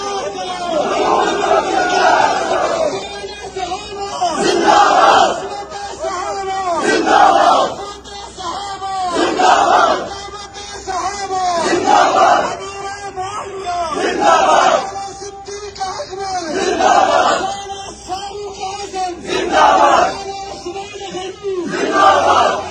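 A huge crowd at a protest in support of Imran Khan chants slogans in loud rhythmic surges, roughly every two to three seconds, with massed voices rising and falling for over twenty seconds as distant playback.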